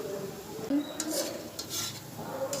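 Palm fritters (taler bora) frying in a pan and being turned over, with clinks and scraping of a utensil against the pan over a steady low sizzle.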